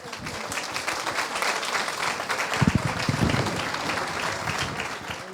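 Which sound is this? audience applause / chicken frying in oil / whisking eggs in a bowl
audience applause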